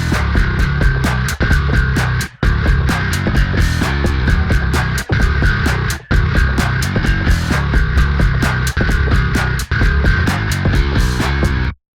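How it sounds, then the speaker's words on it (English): Endless Bass plugin's Nasty Boy preset, a gritty, raw, distorted bass playing a loud rhythmic pattern in repeated bursts separated by short gaps. "this first preset I've included with the plugin is called Nasty Boy. Very gritty, very raw and distorted,"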